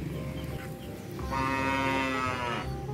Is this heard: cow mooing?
yes